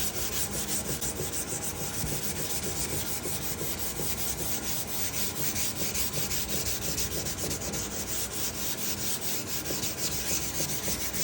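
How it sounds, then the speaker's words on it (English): Hand sanding a plywood Advent wreath ornament, a steady, continuous close-up scratching of abrasive strokes with the grain, loud and unbroken throughout with no talking. "always sand with the grain, don't go up and down."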